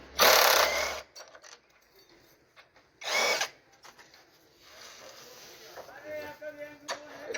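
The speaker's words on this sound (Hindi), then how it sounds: "अब हम खोलते हैं मशीन से 14 नंबर बोल्ट एक्सल पे" A power tool loosens a 14 mm axle bolt on a motorbike wheel during a bike service, two short loud whirring bursts separated by quieter clinks and handling, with someone speaking in between.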